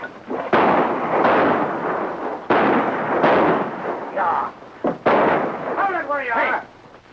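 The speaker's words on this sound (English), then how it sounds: "That bullet was intended for you, Mr. Colby." Gunfire in a Western set in the lawless town of Rawhide: loud, sharp blasts crack out repeatedly over a noisy, reverberant scene, with voices briefly audible near the end.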